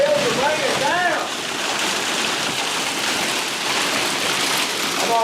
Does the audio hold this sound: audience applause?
no